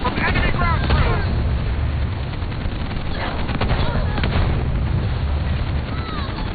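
Enemy ground troops fire on a Scorpion tank in Halo Wars 2, producing a steady clatter of gunshots and bursts with explosions, while battlefield voices call out over the din.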